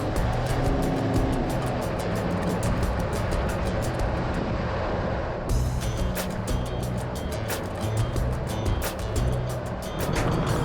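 A 1970s-era Jeep cruising on the 5 freeway toward Bakersfield, a loud continuous engine and road roar with steady tire and wind noise from inside the vehicle, no talking.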